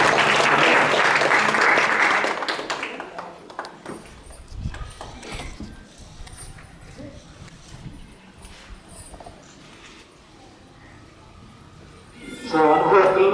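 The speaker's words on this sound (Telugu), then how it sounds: "అందరూ చప్పట్లు పెట్టండి." A church congregation at a missionary gathering in Pochampally claps loudly for about four seconds, then the applause dies away into quieter room sounds and scattered movement, with a brief burst of clapping returning at the very end.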